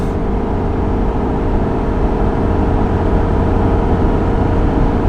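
A Ford F350 Powerstroke diesel pickup at wide open throttle, towing up a steep 6% grade at about 75 mph: a loud, steady, unbroken engine drone with road roar heard from the cab, no pauses.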